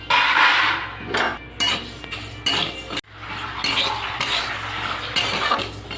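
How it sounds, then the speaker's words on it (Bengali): Mung dal lentils dry-frying in a pan for a jackfruit recipe, stirred steadily so the spoon scrapes and clinks against the metal, a continuous close rattle with no talking. "এবার ডালগুলো ভেজে সিদ্ধ করে নেব"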